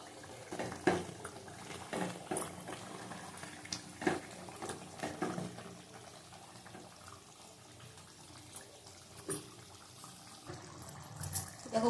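Meat and potatoes simmer in a pot of liquid on a stove, giving a soft, continuous bubbling and watery churning with occasional louder pops.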